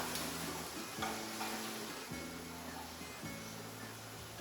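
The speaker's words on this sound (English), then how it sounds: "And Joanne is toasting up some walnuts there." Walnuts toasting in a pan, with a soft background sizzle and repeated scraping stirs at roughly one-second intervals, no talk over it.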